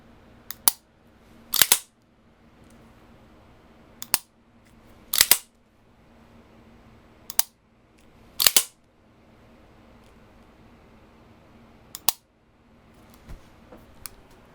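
Dry-fire clicks and trigger resets of a 1911 pistol: crisp, close mechanical snaps, often in quick pairs, spaced a second or more apart over quiet room tone.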